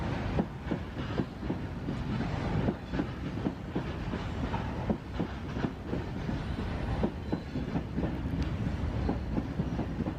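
An Indian Railways freight train hauled by a WAG-5 locomotive rolls past on a curve near a station, a steady rumble with rhythmic clickety-clack of wheels over rail joints and faint wheel squeal, sustained throughout with no talk.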